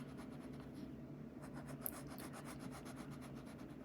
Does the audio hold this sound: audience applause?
no